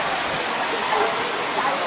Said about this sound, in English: Well, here we are at a waterfall with a little pool in the desert.